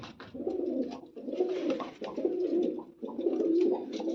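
Prized-breed pigeons in a home loft give repeated throaty coos, four rolling phrases in a steady rhythm, close and fairly quiet with no voices.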